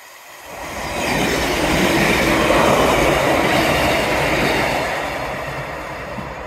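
A slow train rolls past along a seawall, its rumble swelling from quiet into a loud, sustained roar of wheels and cars, then easing slightly as it continues by.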